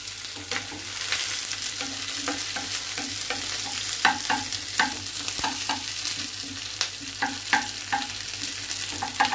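Onions for a chicken curry with mustard and curd cook in a pan, a soft, steady sizzle punctuated by frequent sharp clicks and scrapes of stirring.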